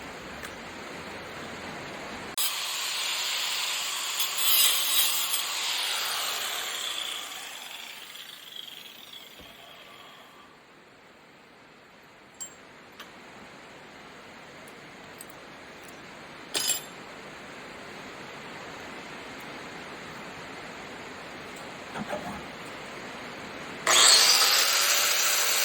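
A power tool cutting metal spoons and forks into wing and beak pieces for a welded duck, a loud grinding whine in long passes with pauses and short clanks between cuts.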